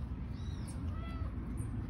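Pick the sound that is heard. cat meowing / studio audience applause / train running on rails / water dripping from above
cat meowing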